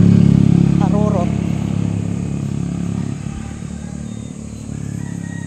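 A motorcycle roars loudly up close and then speeds away, its engine noise steadily fading, with a brief voice heard early on.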